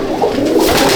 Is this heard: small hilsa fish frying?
no